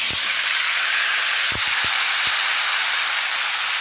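Panch phoron, dried red chillies and asafoetida sizzle in hot oil in a home kitchen, a steady loud broadband hiss with a few soft clicks and taps, alone without talk.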